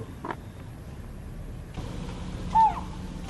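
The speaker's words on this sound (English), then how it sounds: "a series of low-voiced bird calls begins. This is the time when the nocturnal birds become active." Nocturnal forest birds call at night in a quiet mountain woodland, a few low hooting notes spaced apart over a faint background hush, one brief call standing out louder near the end.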